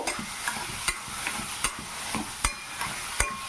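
Chhena being stirred and fried in a pan for sandesh, a close, steady sizzle punctuated by sharp spatula scrapes at a regular rhythm of about one every three-quarters of a second, with no talking.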